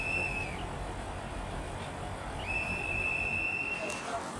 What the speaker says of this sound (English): gotta blow your rape whistle